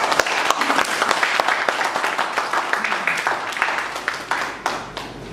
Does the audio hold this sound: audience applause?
yes